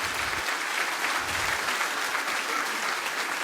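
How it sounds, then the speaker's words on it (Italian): Audience at a solidarity concert in Tonara, Sardinia, applauding steadily as a choir walks on and takes its place, dense sustained clapping from a crowd with no talk over it. "li accompagniamo con un bel applauso mentre si posizionano"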